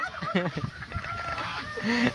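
Ducks honk and quack in a flurry of agitated calls as they are caught, close by, with splashing and scuffling noises underneath.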